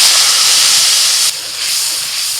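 Green chili and tomato paste hit hot oil already holding cardamom, cinnamon, cloves and ginger for a paneer biryani, giving a loud, steady sizzling hiss that drops suddenly partway through and then continues more quietly.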